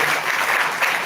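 A brief burst of loud, close audience clapping at a Chhattisgarh Official Language Commission ceremony for Chhattisgarhi Language Day, dense and continuous throughout without any voices.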